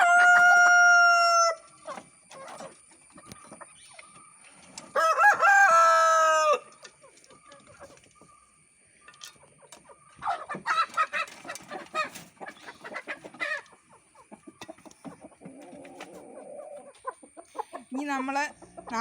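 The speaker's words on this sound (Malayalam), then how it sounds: "കരിങ്കോഴിയാണ് ഇനി തീറ്റ കൊടുക്കാൻ പോകുന്നത്" A rooster crows loudly twice amid a flock of black Kadaknath chickens clucking and squawking at feeding time, with bursts of busy cackling throughout.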